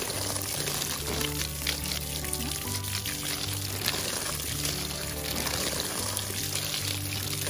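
Water poured from a container onto potting soil mix in a pot to moisten it, a steady continuous pour at close range with no talk, against a background of low hum.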